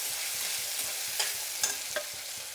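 Onions fry in a pan for sambar with a constant close sizzle, broken by a few short stirring scrapes and taps, no voices.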